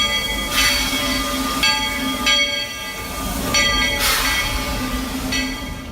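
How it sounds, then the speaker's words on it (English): Disney park train rolling between Main Street and Frontierland, steady rumble of wagons with repeated wheel squeals and rhythmic clacks over the track, fairly close and continuous, no voices. "So I just tried to ride the train"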